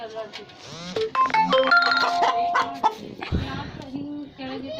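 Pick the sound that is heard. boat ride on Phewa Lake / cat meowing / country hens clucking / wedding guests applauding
country hens clucking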